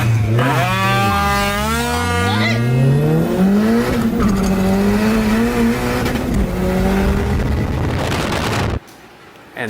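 Drag racing scooters scream and rev hard, their small engines climbing and dropping in pitch through gear changes, loud and close, before cutting off abruptly near the end.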